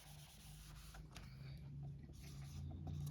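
An eraser or duster rubs writing off a board during an engineering surveying lecture, a quiet continuous scrubbing with soft rhythmic strokes over a low steady hum, no talking.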